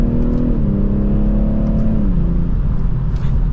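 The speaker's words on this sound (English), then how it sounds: "Let's do one more acceleration from 3rd gear." BMW 840i xDrive Gran Coupe, 2024 model, accelerating hard from third gear, heard from inside the cabin as a loud, steady engine drone rising in pitch, dipping briefly at a shift, then continuing to pull.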